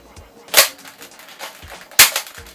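An OMW-modified Nerf Strongarm blaster slam firing, two sharp, close snapping shots about one and a half seconds apart, each with a quick mechanical click, with faint handling noise between them.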